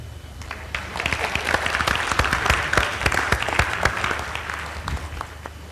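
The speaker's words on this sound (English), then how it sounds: "I think we should clap for each other." An audience applauds at a sugar industry innovation symposium, with dense, sustained clapping from a crowd that rises and holds steady throughout.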